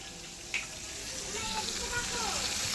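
A katla fish head frying in oil in a wok, giving a steady, fairly faint hiss and sizzle, with a clink near the start and soft murmuring voices in the background.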